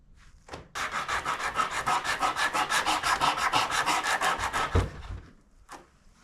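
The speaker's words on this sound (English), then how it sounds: "it just sands the corners that you really can't sand yourself by hand" A handheld sanding tool works the corners of a wooden marble-top dresser, giving a steady run of fast, rhythmic rasping strokes for about four seconds before stopping, close and loud, with no talk.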